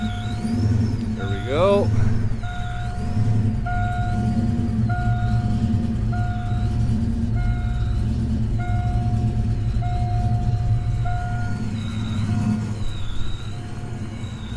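A 1988 Ford Mustang Foxbody, a cold barn-find car, cranks over and catches, then settles into a loud, steady, rumbling idle close by, with a brief spoken remark and a faint repeating tone above.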